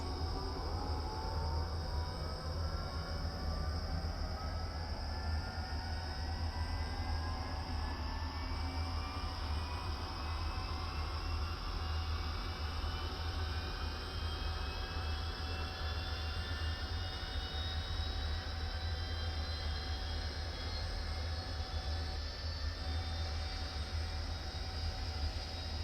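Simulated A-10 jet engine in a flight game winding down after shutdown, a steady whine whose tones sweep slowly across the whole stretch over a constant low rumble, loud and continuous with no voices.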